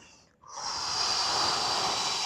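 A long, steady exhale through the nose or mouth during a yoga and pilates stretching routine, a close breathy hiss starting after a brief pause and sustained evenly to the end.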